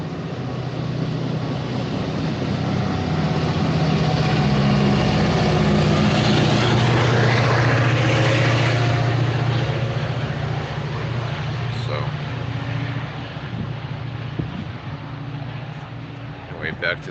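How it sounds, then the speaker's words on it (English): A loud, steady engine drone with a low rumble and rising whine, building over several seconds then easing slightly, with faint voices underneath. "That engine's going to be loud in a moment"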